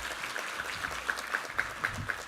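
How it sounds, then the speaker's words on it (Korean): Applause from a church congregation during a Sunday worship service, a steady wash of clapping with faint, evenly spaced tones, moderately quiet and without talk. "우리 하나님께 감사와 영광의 박수 올려드리겠습니다."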